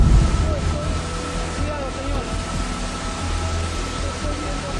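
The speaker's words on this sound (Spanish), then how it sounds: "El agua baja marrón, revuelta, sin avisar." Brown floodwater rushes steadily near a riverside settlement in Argentina's humid Pampa, a continuous broadband roar at moderate loudness with faint distant voices or calls drifting in over it.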